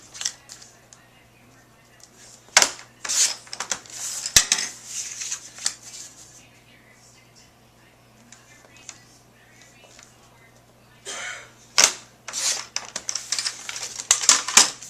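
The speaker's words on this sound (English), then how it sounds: "let's go ahead and trim this one" A paper piece trimmed by hand for a holiday memory book gives off crisp, close clicks and short scraping bursts, clustered in two busy stretches separated by quieter moments, with no talking.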